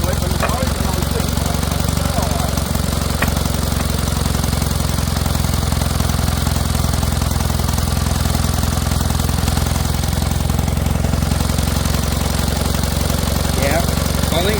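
An old vintage Kohler generator runs steadily close by, with its engine drone loud and unbroken throughout and a belt slipping on the dynamo drive.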